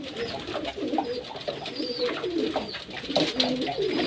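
Pigeons coo repeatedly while bathing in water on a hot summer day, a steady murmur of soft, overlapping calls from several birds nearby, with splashing and fluttering mixed in.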